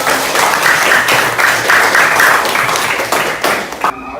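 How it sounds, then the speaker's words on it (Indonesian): A class of children clap their hands together in a school lesson, a dense, steady patter of many small palms sustained close by with no talking over it, then cutting off abruptly at the end. "Tepuk tangannya"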